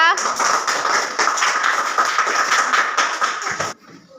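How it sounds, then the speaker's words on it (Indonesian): A classroom group claps for group 3 during a student teaching session, a few seconds of fairly close, brisk clapping from a small crowd that stops abruptly near the end. "tepuk tangan buat kelompok 3"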